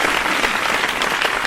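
A short burst of steady, dense applause from a small studio audience claps evenly throughout, close and fairly loud, with no voices heard over it.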